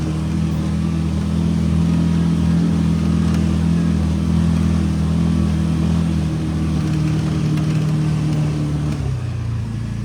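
Vehicle driving away across a farm, a loud, steady engine drone close by that holds for several seconds, then shifts down in pitch near the end.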